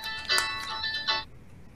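A telephone ringtone chimes in two bright melodic bursts while a call goes out to a customer service line, then cuts off into near silence.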